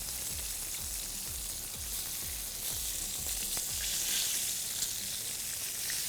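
Fish fries in hot oil with a loud, dense, continuous sizzle and crackle, close up, with a low rhythmic thumping underneath.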